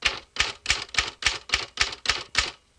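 Nine sharp typewriter keystrokes strike in an even, steady rhythm, each a crisp clack close by, with brief silences between them and no voices.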